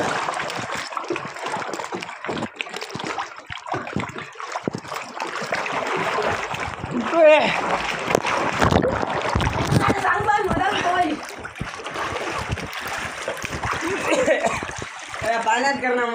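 Splashing and sloshing in well water in summer as someone dives and swims, irregular splashes and churning water running throughout under frequent talking and shouting voices.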